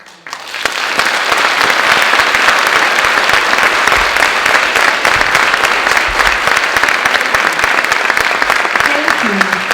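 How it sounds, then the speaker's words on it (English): An audience applauds Holocaust survivor Helen Levinson at a college diversity series talk, a sustained, dense round of clapping from a large crowd that holds steady for nearly ten seconds. "A round of applause for"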